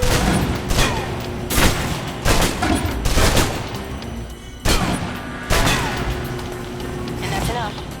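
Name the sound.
submachine gun fire in the video game Alpha Protocol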